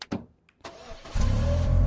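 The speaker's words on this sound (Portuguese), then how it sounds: "tô dirigindo um carro, mano" A car engine in a modded Minecraft game: a few sharp clicks and thumps, then the engine turns over and settles into a loud, steady rumble.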